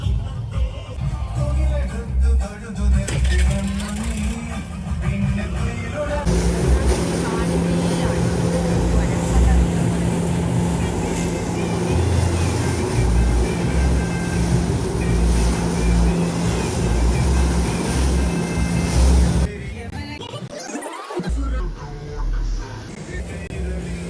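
Motorboats run on the river during the Pinarayi Peruma river festival, a loud continuous engine roar with water wash, shifting in intensity, with a sharp passing swoosh near the end.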